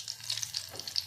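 Green and dry chillies frying in a pan of oil for a coconut curry, a crisp steady sizzle with small popping crackles scattered throughout, close and alone.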